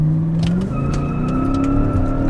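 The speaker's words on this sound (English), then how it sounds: "A lot of wheel spin." A BMW E39 540i V8 sedan accelerates hard from a standstill with wheel spin, its engine note rising loud and close, with faint tire scrabble under the rising revs.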